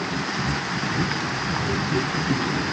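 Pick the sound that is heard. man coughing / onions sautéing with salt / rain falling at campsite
rain falling at campsite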